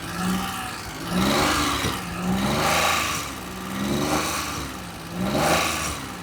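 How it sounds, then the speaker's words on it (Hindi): A Maruti Alto car engine is revved up and let fall back again and again, four or five rising and falling surges close by, with no one talking. "अभी ये इंजन साइलेंट है बिल्कुल। अभी हम इसको एक्सीलेट करके देखेंगे।"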